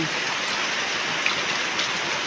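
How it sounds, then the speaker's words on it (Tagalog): Heavy rain pours down steadily in a dense, even hiss of countless drops striking surfaces nearby, unbroken throughout with no voices. "Ngayon po ayan, ang lakas na naman ng ulan."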